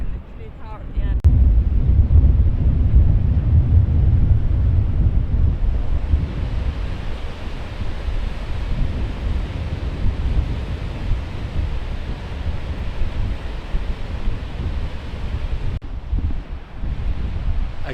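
Strong wind buffets the microphone nonstop while surf roars along New Zealand's West Coast shore on a rainy day, steady and loud throughout.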